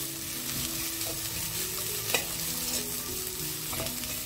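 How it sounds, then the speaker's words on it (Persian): Onion and carrot sautéing in a pot for a milk soup, a steady close sizzle with scraping stir strokes and a few utensil knocks against the pot, no voices. "بعدش هویج اضافه میکنم، هویجم یه مقدار تفت میدم"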